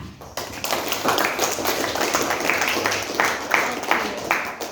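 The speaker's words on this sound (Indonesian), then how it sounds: "berikan tepuk tangan kepada Christine dan Cynthia" Classroom applause for two students, a small group of hands clapping after a brief pause, with uneven, somewhat loose claps continuing at close range for a few seconds.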